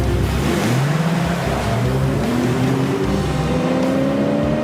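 Car driving fast and accelerating, a loud engine roar climbing in pitch through gear changes, with constant road and wind noise close up, with no talk.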